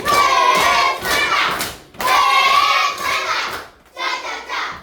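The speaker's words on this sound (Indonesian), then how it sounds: "Tepuk apresiasi." Schoolchildren in a classroom clap together in appreciation, three loud bursts of patterned group clapping with brief pauses between them, some shouting mixed in.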